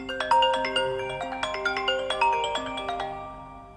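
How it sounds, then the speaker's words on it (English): The default iPhone X ringtone plays alone as a bright chiming melody of layered bell-like tones in a repeating rhythmic pattern, clean and close with each note ringing briefly. "the iPhone X actually comes with a brand new ringtone"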